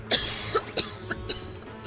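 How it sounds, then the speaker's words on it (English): A sick person with a respiratory infection gives about five short, dry coughs in a row, fairly close and moderately loud, with brief gaps between them. "I'm just coughing a lot"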